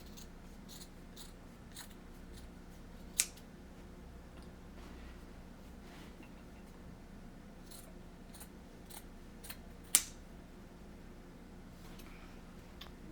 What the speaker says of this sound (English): And then we're gonna cut these little tabs off.